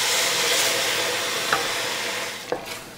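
A cup of wine poured into a hot flour roux for mushroom soup gives a steady, loud hiss and sizzle, with a couple of faint clinks from a utensil near the end.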